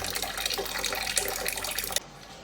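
Water running from a tap, a steady close splashing stream that stops abruptly about two-thirds of the way through, leaving quiet room tone.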